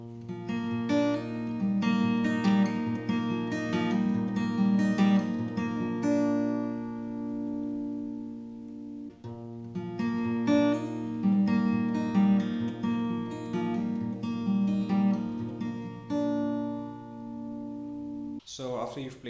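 Acoustic guitar notes picked in a flowing pattern ring together into a sustained chord, played twice with a short pause between, close and fairly quiet.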